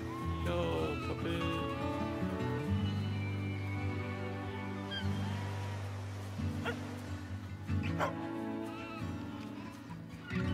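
A puppy barks in a livestock-themed video game trailer, the yaps rising over steady, loud music that plays throughout.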